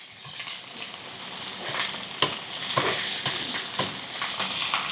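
A steak sizzles loudly and steadily in a hot pan while it is basted, the constant crackling hiss broken by sharp clicks and spatters as fat is spooned over the meat.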